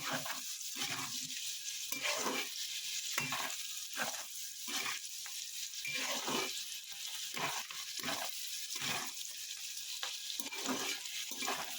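Carrots and beans fry in a pan, a steady sizzle broken by regular scraping stirs roughly every second, close and alone with no talk.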